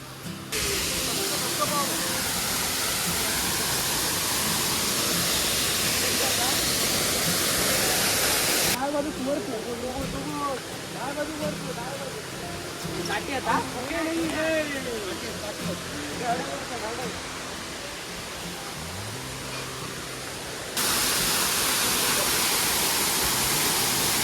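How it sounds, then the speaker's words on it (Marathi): Loud, constant roar of a hidden hot-water waterfall in the Konkan rushing without pause, with voices talking over it for a stretch in the middle. "समोरच आहे तो म्हणजे हा धबधबा"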